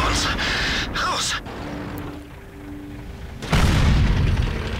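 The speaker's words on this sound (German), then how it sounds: "Oh, jetzt schießt die Artillerie mal mit." Artillery shells exploding in a World of Tanks battle, heavy booming blasts and rumbling impacts with a louder burst near the end, under game noise and occasional voice.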